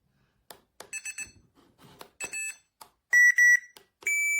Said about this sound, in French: C'est un collier électrique donc pour chien qui fait à la fois sonnerie.